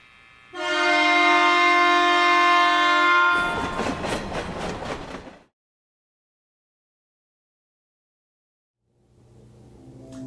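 A train passes close by with a long, loud steady horn blast, then the rumble and rattle of the rail cars fading out before a quiet gap and some renewed low noise at the end.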